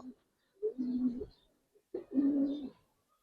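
Two soft, low coos from Giribaz pigeons, each a short rolling phrase, separated by a pause in an otherwise quiet setting.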